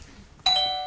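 On a British improv comedy stage, a performer's voice imitates a doorbell: a short quiet lead-in, then one bright, ringing ding that holds and slowly fades.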